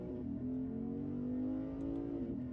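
A 2022 Lexus IS 500 engine holds a steady, loud droning tone while accelerating in manual mode, with a slight pitch shift near the end and no voices.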